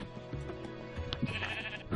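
Sheep bleat in the farming video game Extreme Heights. Several close, wavering bleats overlap in quick succession over a soft game background.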